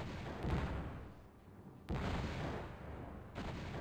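In the Zero-K strategy game, a commander's rocket launcher fires, giving deep booming blasts at the start, middle and end, each followed by a rumbling decay, with no voices over them.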